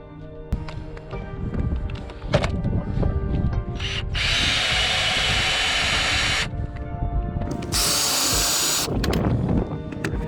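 A power drill backing out roof rack screws inside a motor home, with several sustained high whirring runs between clatters, knocks and handling noise, close and loud.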